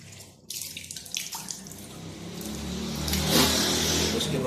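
Tap water runs steadily during Shia ablution (wudu), splashing into a sink and growing louder and fuller as the flow or splashing increases, with no talk over it.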